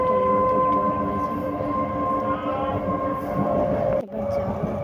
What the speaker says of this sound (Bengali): আর আমি ট্রেনের মধ্যে উঠেও পড়েছি।